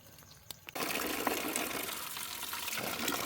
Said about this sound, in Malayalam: സമയം അഞ്ചേ മുക്കാലായി പൈപ്പിൽ വെള്ളം വരുന്നുണ്ട് ഇതാണ് നമ്മുടെ മുറ്റത്തെ പൈപ്പ്